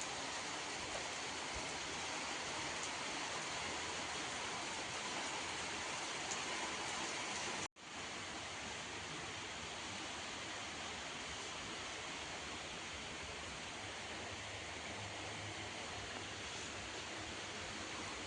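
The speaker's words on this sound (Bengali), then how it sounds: "ভালোই বৃষ্টি পড়ছে তো" Heavy rain falls outside a hospital at night as a dense, steady hiss, briefly cut off once in a sudden break before continuing unchanged.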